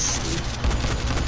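Rifle spray fire in the video game Dying Light, a dense, continuous burst of rapid shots with a low boom partway through, loud and close with no talking.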